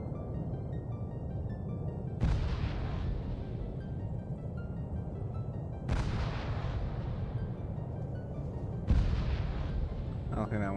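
Three heavy bomb explosions in Arma 3, each a sudden loud boom followed by a long rumbling decay, spaced a few seconds apart over continuous low battlefield rumble.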